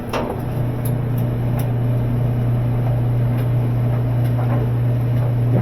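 A washing machine with a cracked spin basket base runs steadily on its spin cycle, a loud, constant motor hum with rumble and faint rattles throughout.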